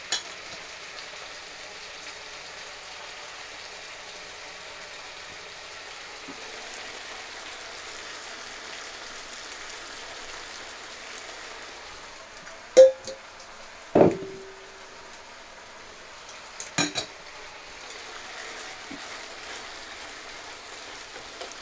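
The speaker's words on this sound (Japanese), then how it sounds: "ざっと炒めて" Burdock and vegetables stir-fry in a pan for takikomi gohan, a faint, steady sizzle running throughout, broken by a few sharp clanks of a utensil against the pan.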